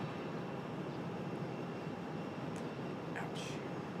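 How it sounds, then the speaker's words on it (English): Alaska Airlines airliner arriving at Raleigh-Durham International from Greensboro, a steady broadband engine roar filling the whole clip at constant loudness, with faint brief higher noises near the end. "So Alaska Airlines coming up next. And like I said, coming in from Greensboro."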